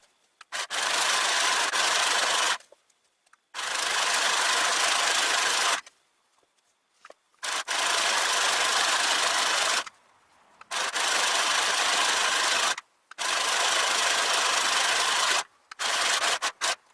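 A small home sewing machine stitches through thick fleece for a trekking pullover, running in four loud bursts of steady whirring, each a few seconds long, with short quiet pauses between them.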